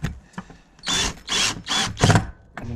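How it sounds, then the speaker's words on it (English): A power drill drives screws into reclaimed wood for a coffee table in four quick whirring bursts of roughly equal length, close and loud, separated by brief pauses and faint handling clicks. "Just start them off with the drill"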